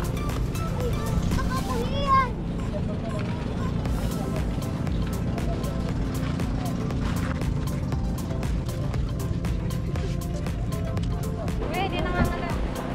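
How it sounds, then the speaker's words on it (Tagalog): A small boat carries passengers across the sea to Alibijaban Island, its steady engine drone and rushing water continuous throughout, with people talking over the noise. "Pasakay na kami ngayon sa bangka."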